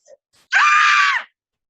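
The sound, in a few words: storyteller imitating a man screaming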